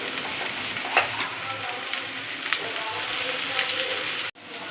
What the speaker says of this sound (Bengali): এবার আমি ওই তেলেই পেঁয়াজ কুচিগুলো দিয়ে হালকা লাল করে ভেজে নেব।